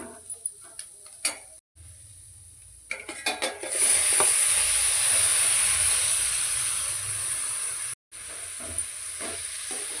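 Goat blood is stirred in a hot frying pan, with scraping clinks of a spoon against the pan followed by a loud, steady sizzle and hiss with occasional stirring knocks.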